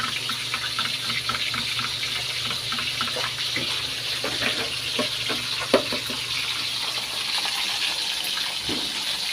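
Five eggs frying in a pan, giving a continuous loud sizzle with scattered small pops and crackles, close by.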